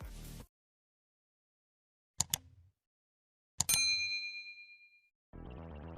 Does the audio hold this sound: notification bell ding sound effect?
yes